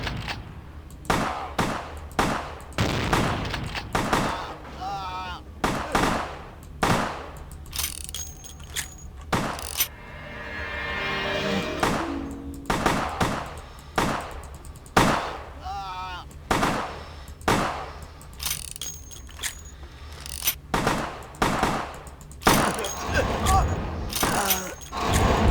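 Repeated shotgun blasts in the vampire game Vampire the Masquerade: Bloodlines, sharp loud booms spaced irregularly through a tense fight, mixed with other combat noises and occasional voices.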